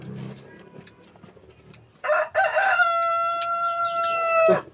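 A rooster crows once, loud and close, a long sustained call with a short rising start that cuts in after a stretch of quiet background noise.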